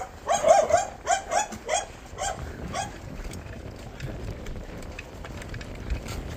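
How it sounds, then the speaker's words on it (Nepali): A dog barks six or seven times in a quick, loud, fairly near series during a mountain bike ride, then falls silent while faint outdoor background noise carries on. "त्यो कुकुर जहिले पनि भुक्छ यार"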